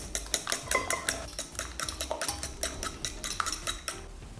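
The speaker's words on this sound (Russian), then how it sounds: "Беру вилку и хорошенечко взбиваем желтки." A fork whisks raw egg yolks in a plate, making quick, rhythmic clinks and scrapes of metal on the dish close up, about three strokes a second, with no talking.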